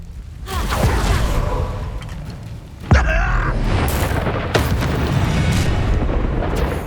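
A Confringo blasting spell goes off in Hogwarts Legacy as a loud booming blast with a whooshing rumble, and a second sharp impact hits around the middle before the roar fades.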